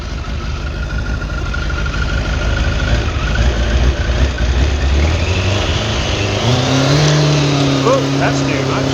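A freshly revived 1989 Kawasaki ZX-10 motorcycle engine runs on choke, idling loud and close with a rough, steady rumble that rises into a brief rev near the end.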